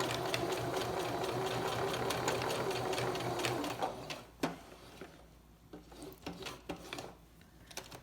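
A sewing machine with a faulty reverse function stitches a seam on a fabric face mask, giving a close, steady mechanical whir that stops halfway, followed by scattered clicks and handling noises.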